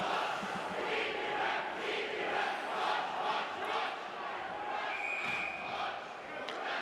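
Hockey arena crowd at an RIT vs Canisius college game, a steady loud roar of cheering and yelling that fills the whole stretch, with scattered whistles and shouts rising above the din.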